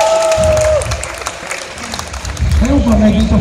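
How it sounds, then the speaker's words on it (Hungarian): A live audience bursts into applause on the count of three at a lively stunt-show event, broad crowd noise filling the space with loud, continuous clapping while voices and cheering rise over it near the end. "3-ra mindenki tapsol"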